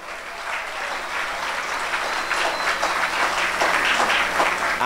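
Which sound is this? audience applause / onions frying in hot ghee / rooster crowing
audience applause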